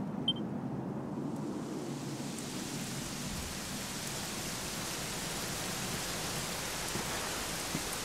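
Steady rain pours throughout a Dragon Quest XI cutscene, a constant wash of hiss and patter with a low rumble underneath, unbroken and moderately quiet for the whole stretch.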